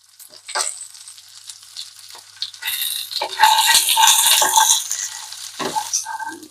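Peanuts fry in a pan with coriander seeds and cumin seeds. The hiss and crackle swell as the spoon stirs, with close scraping and spluttering bursts and no voices.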